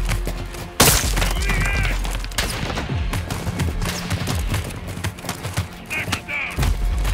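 Gunfire in a Call of Duty cartel raid shootout: a loud opening crack followed by bursts and scattered shots, distant booms and thuds, with voices and chatter mixed in throughout.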